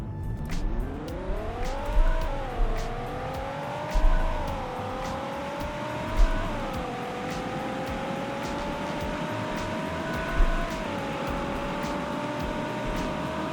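A small car with a big engine and a five-speed manual gearbox in the Roblox game Greenville accelerates at full throttle. The engine note climbs steadily, then drops with each gear change, three or four times, with no talking.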